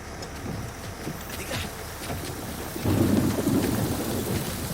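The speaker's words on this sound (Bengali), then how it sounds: "কি ফালতু বৃষ্টি শুরু হয়েছে" Steady heavy rain pours throughout, with thunder rumbling low and growing louder in the second half.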